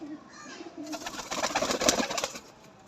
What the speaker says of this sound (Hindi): देख लें, चौधरी वाले कबूतर हैं ये माशाल्लाह से।